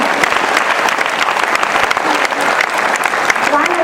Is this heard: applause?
yes